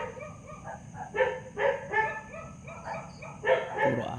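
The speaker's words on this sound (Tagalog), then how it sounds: "Puro aso." Several dogs bark in short repeated bursts at a moderate distance at a rural property in Bataan, the barks overlapping in an irregular rhythm against a quiet background.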